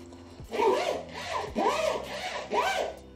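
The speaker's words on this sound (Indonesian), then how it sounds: "Kalau dilihat dari resletingnya," The zipper on a Viltrox ring light bag is pulled in four quick rasping strokes, each a scratchy, close-up zip about a second apart, with no voices.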